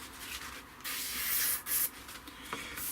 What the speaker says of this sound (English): So for the flat coat, I'm just going to use some extra acrylics flat varnish